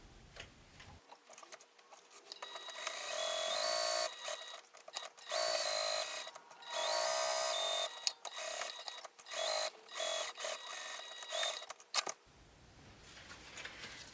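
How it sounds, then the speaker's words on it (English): A sewing machine stitches crocodile faux leather at a regular stitch length, running in several close, loud whirring bursts separated by short pauses, with no talking. "I'm going to use my regular stitch length, and I'm just going to sew a complete box."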